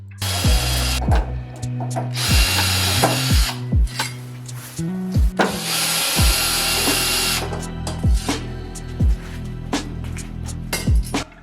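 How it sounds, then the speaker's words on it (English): Screws are driven out of mirror backs with a power driver, loud whirring bursts and ratcheting clicks repeating over several seconds, with sharp metallic knocks as metal pieces are pulled off. "Easy to do, just take out the screws and I'm just going to pull these off."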